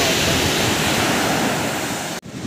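Strong wind buffets the microphone over steady crashing surf at a beach, a loud continuous roar with a brief dip near the end; no one speaks.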